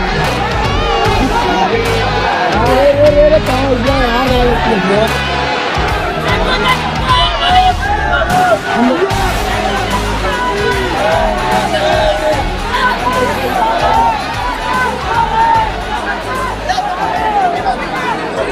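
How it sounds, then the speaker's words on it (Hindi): A large, dense crowd presses around a political leader at a rally, with loud continuous hubbub, shouting and cheering voices filling the scene throughout. "यहाँ पर भीड़ लगी हुई है इतनी।"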